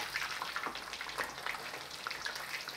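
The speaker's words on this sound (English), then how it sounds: "we'll keep frying it" Chicken thighs frying in clean cooking oil, a steady soft crackle and sizzle continuing at moderate volume with no talk over it.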